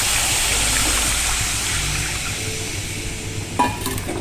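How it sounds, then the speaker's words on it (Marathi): Hot water is poured into spiced stuffed-brinjal masala frying in oil, making a loud, continuous hissing sizzle and watery rush that eases slightly toward the end. No one speaks. "गरम पाणी टाकले मी"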